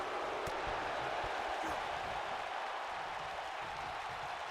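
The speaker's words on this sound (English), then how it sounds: "the crowd definitely showing their displeasure for Sinister here" A wrestling crowd voices its displeasure at a heel called Sinister with a steady, distant roar that fills the whole moment.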